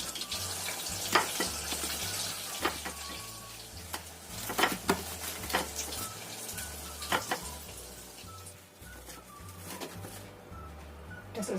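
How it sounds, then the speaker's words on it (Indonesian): Snacks frying in hot oil with a steady crackle and bubbling, broken by sharp utensil clinks and splashes, plus a low hum underneath throughout. "Kita goreng yang selanjutnya."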